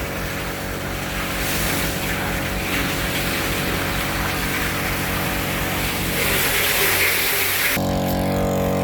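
A new two-stroke petrol water pump runs loud and close with a steady, buzzing engine drone and broadband roar, and its tone shifts abruptly near the end.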